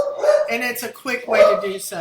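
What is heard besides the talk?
dogs barking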